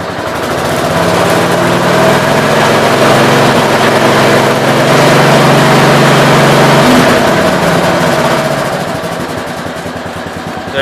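A 1967 430's engine runs loud and close, rising into a sustained rev with a steady rumbling drone for several seconds before easing back toward idle; no talking.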